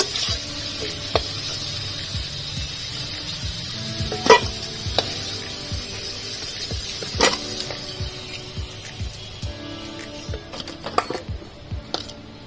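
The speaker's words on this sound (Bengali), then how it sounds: "আলুগুলো লাল লাল করে ভেজে নিয়েছি" Potato pieces fry in hot oil in a pan with a steady sizzle and bubbling, broken by occasional clicks and scrapes of stirring close at hand.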